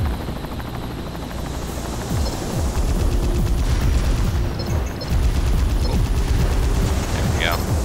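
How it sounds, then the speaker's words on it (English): Machine gun fire in the Armored Core 3 mech video game, rapid bursts of repeated shots over a heavy droning engine hum, with game sound effects throughout. "Just use fucking machine guns at this point."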